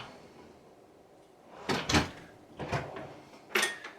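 A kitchen drawer is opened and shut three times in a row, with sharp wooden clunks and rattles at close range while someone hunts for tongs, and no one speaks.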